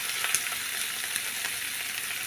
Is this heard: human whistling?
no